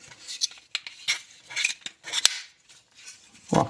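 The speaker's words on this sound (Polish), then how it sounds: "O, pięknie klikło." Plastic parts of a 1/8 scale Ferrari 250 GTO model kit snapping into place, a run of close, sharp clicks and taps in quick irregular succession, ending with a duller knock.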